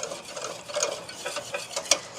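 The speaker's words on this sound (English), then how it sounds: "I want to stir this about 2 minutes or so" A butter and flour roux being stirred in a pan over medium-high heat, with soft scraping and light sizzling that rise and fall in a steady rhythm, close and fairly quiet, without any talking.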